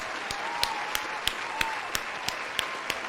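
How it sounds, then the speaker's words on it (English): A played applause sound effect stands in for a chat audience clapping, with evenly spaced, sharp claps over a steady crowd-like hiss, all at moderate volume. "This is all the chatters clapping you, applauding"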